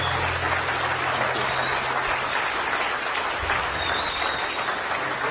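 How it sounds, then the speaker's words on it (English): Audience at a border town hall claps in a sustained, dense burst of applause, loud and close, holding steady for several seconds with faint whistles and no speech over it. "A big round of applause."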